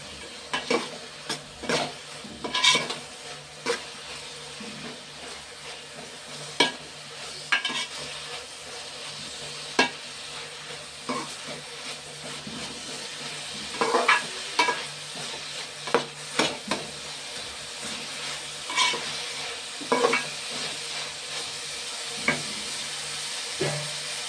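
Pieces of meat with turmeric and ginger paste fry in a pan, a soft continuous sizzle broken by repeated scraping and clattering strokes of a spatula stirring, close and without talk.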